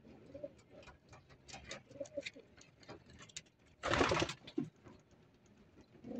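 Pigeons coo repeatedly nearby, soft throaty calls, with a short loud rustling burst partway through, like flapping wings.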